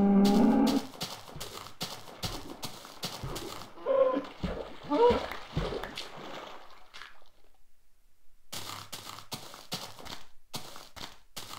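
Cows moo in the blocky sandbox game Minecraft, a run of short, clipped synthetic lows repeating in quick bursts, broken by a quieter gap with game splashes and clicks before the mooing resumes.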